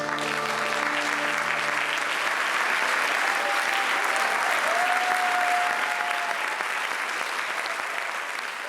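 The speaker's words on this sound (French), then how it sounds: "Le spectacle d'1h30 s'est clôturé sous une pluie d'applaudissements." Loud, sustained applause from a theatre audience at the close of a ninety-minute show in Vélizy, a dense continuous roar of clapping with a brief sustained tone early on.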